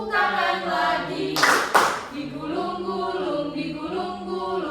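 Children in a second-grade classroom game clap hands in a brief burst of several quick, close claps, with a teacher's singing voice carrying on before and after.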